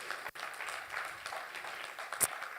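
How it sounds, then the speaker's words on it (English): An audience applauds Anne Soy at a Daystar University event, a steady wash of clapping throughout, moderately loud and fairly close. "I would love us to give a huge round of applause to Ms."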